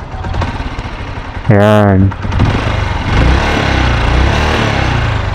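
An all-stock Motorstar TMX Alpha motorcycle with about 40,000 km on the odometer runs nearby with a steady, chugging idle, while someone speaks briefly over it.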